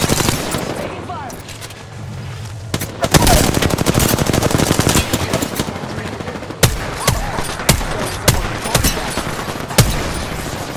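Rapid automatic gunfire from Apex Legends, loud, dense bursts of shots that start after a quieter opening, followed by more sharp separate volleys and single cracks, with faint game voice lines underneath.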